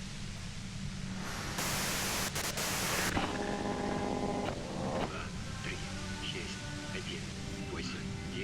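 Broadband static hiss of white noise in the video game Disco Elysium swells loudly for a second or two over a steady low hum, then gives way to quieter tonal music and faint game sounds.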